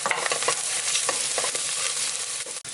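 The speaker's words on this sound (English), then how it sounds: "And straight away the garlic is gonna go in now" Garlic goes into a frying pan of softened onion in oil, sizzling loudly and continuously at close range with brief stirring scrapes, no voices.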